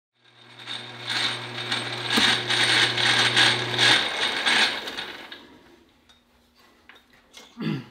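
A Remington 30-06 rifle part is polished with 320 grit, a close, rhythmic abrasive rasping with a low motor hum underneath for about four seconds, fading to quieter scraping and a few small clicks.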